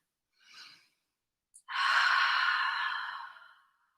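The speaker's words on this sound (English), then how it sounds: "take a big inhale and exhale it through the mouth" A deep breath during a yoga stretch: a short soft inhale, then a long, loud exhale pushed out through the mouth that fades away slowly, close to the mic, with no talk.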